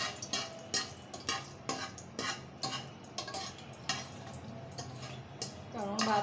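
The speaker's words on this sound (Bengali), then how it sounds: "গোটা মশলাগুলো এখন আমি সুন্দর মতো ভেজে নেব" Whole spices frying in a pan for morog polao, a Bengali chicken pulao, with a run of sharp, close clicks and scrapes as they are stirred and crackle against the metal.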